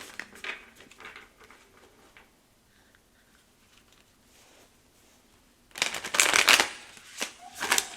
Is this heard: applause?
no